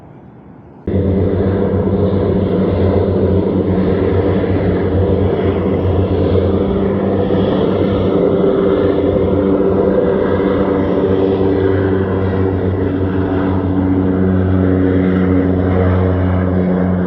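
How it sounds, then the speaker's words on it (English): A seaplane on a New York City waterway revs up for takeoff, its propeller engine roaring loud and steady with a strong low drone that holds throughout, close by and unbroken after a sudden start. "I believe there's a seaplane getting ready to take off"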